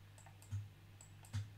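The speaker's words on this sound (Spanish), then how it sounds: "ese clic es el interruptor en cuestión" Click of a smart light switch during a Home Assistant setup, two short faint clicks heard close by over a steady low electrical hum, with no talking.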